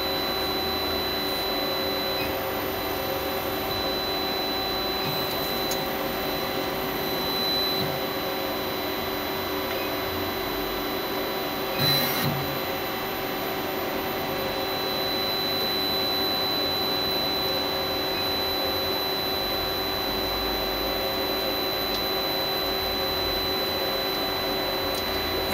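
A Star SR16 CNC lathe moves its axes, giving a steady whirring machine hum with a faint high whine, a brief louder burst midway, and no speech.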